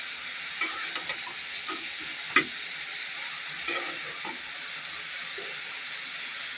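Leafy greens cooking in a pan, a soft continuous sizzle and steamy hiss with a few sharp clinks and scrapes of a spoon, quiet and close with no talking.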